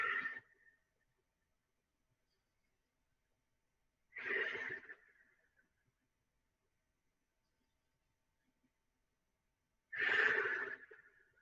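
Three slow, breathy exhalations spaced several seconds apart, close and soft, with near silence between each breath during a guided breathing exercise.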